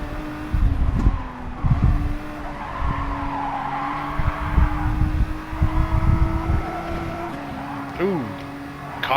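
A race car in Gran Turismo Sport accelerating, its engine rising in pitch as it speeds up, with tire squeal and skids along the way and a person talking over it throughout.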